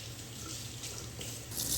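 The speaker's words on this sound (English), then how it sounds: "Then we have to wash our hands so our food doesn't get all greasy." A kitchen tap runs steadily as hands are washed beneath it during barbecue cooking, a close, even rush of water that swells slightly louder at the end.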